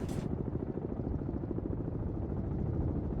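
A helicopter in the Cold Waters submarine game gives a steady, loud rotor chop with a dense low thrum, holding continuously at close range.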